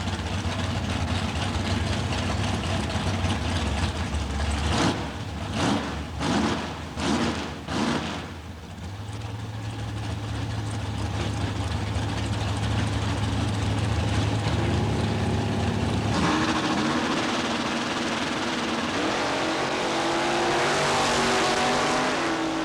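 Chevrolet Camaro Super Pro drag race car at a dragway starting line in 1990: a deep engine idling, a series of sharp revs, then a sustained roar that builds to full throttle, loud and fairly close with an announcer's voice faintly underneath.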